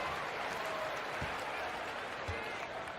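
A virtual home crowd in an NBA 2K basketball game in San Antonio, with the Lakers visiting, roars and applauds in a steady, continuous wash while a commentator talks over it.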